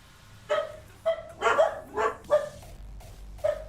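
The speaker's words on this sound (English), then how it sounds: "Doggos." Dogs in Farming Simulator 25 bark about six times in sharp, evenly spaced yaps roughly half a second apart. The barks are moderately loud and close, with no talk over them.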